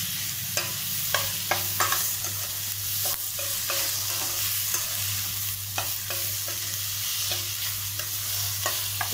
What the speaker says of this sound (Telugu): ఆనియన్ కొంచెం ఫ్రై అయిపోయింది ఇప్పుడు రెండు టమాటాలు సన్నగా తరిగి పెట్టుకున్నాను దాన్ని వేసేస్తున్నాను